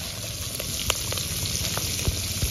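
Dried fish crackles and sizzles steadily in hot oil, with a dense, close frying hiss and scattered sharper pops throughout, without any talking.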